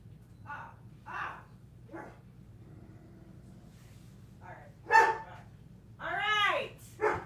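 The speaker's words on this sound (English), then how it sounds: "are you barking at?" A dog named Ovi barks several times in short bursts at close range, with a few higher yips and whimpers near the end, over a low steady hum of room noise.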